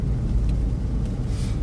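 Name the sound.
car driving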